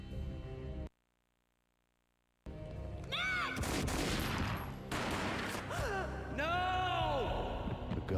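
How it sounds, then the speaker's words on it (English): Gunfire in the video game Max Payne comes as a loud burst of shots and crashing impacts after a sudden silence, with gasping and pained vocal cries mixed in. "A gunshot boomed"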